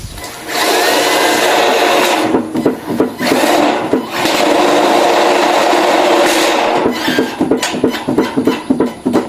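A Dongcheng cordless impact driver whirs and hammers in bursts, with rapid rattling impacts as a screw is driven, close and loud.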